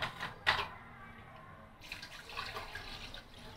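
Water poured into a mango summer punch that already holds sugar, a soft, splashy trickle with a couple of sharper knocks at the start and a steadier pour toward the end, fairly quiet.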